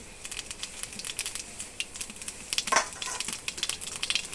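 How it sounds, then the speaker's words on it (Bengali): Crackly sizzling of cumin seeds hitting hot oil in a wok, a rapid patter of small pops that swells briefly midway, with no voices. "কড়াইতে আমি তেল দিয়ে দিয়েছি তেল গরম হয়ে গেছে আমি জিরা দিয়ে দিচ্ছি"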